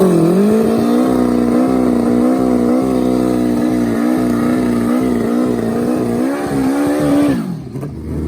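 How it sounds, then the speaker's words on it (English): Turbocharged Hayabusa drag bike with a 1363cc Garrett turbo engine and Wossner pistons screaming down the strip, a loud sustained high-revving howl with rising pitch, close, cutting off near the end. "That's a fast Hayabusa. Wosner pistons inside web camshafts. It is a 1363cc Garrett turbo machine."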